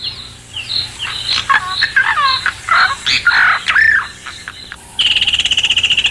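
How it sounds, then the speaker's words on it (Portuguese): Red-billed hornbills, Burchell's starlings and woodland kingfishers bringing food to their chicks call close and loud in quick overlapping whistles, chatters and clucks. A rapid, rhythmic trilling series closes it. "Polpas de bico vermelho, calaus de bico vermelho, estorninhos de Burchell,"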